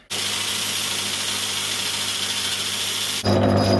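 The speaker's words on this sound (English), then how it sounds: "Right, back to the angle grinder." A power tool, consistent with an angle grinder cutting steel while restoring an old bench vice, gives a loud, steady high-pitched whine and grinding roar with no pauses, shifting to a different, deeper tone in the last half second.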